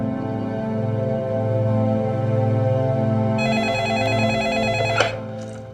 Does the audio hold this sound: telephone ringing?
yes